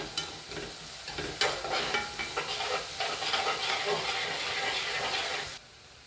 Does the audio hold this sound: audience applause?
no